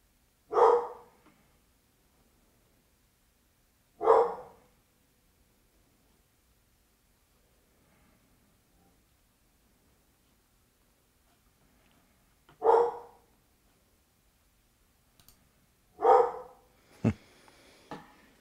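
A dog barks in a quiet room: four single loud barks spaced several seconds apart, with near silence between and a faint knock or thump at the end.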